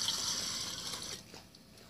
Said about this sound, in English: So we're going to start it with some water in a big pot.